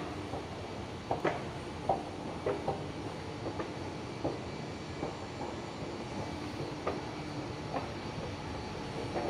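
The Lodaya passenger train runs at Solo Balapan station, heard from a distance as a low rumble with faint, irregular wheel clanks over rail joints and no talking.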